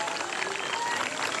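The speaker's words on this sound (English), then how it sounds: "Plenty of clapping, plenty of cheering." Spectators at an outdoor Highland Games event clap and cheer in a continuous busy patter of applause, with a voice talking over the crowd noise.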